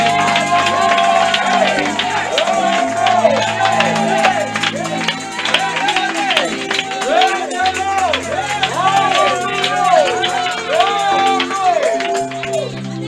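A church congregation at a worship service cheers and acclaims the Lord Jesus, a loud sustained crowd roar with clapping, layered over music and voices throughout.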